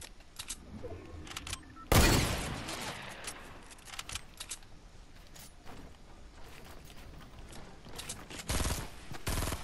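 Video game gunfire in a team shooter, with a loud burst of rapid shots followed by scattered quieter shots and another cluster near the end over a low background of game noise.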